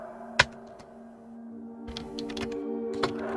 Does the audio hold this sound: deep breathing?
no